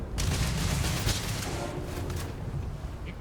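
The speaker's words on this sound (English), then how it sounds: "I have no idea what you guys are shooting at." Sustained gunfire in the video game Starfield, a dense continuous crackle of distant-sounding shots and booms with little break across the whole stretch and no talk.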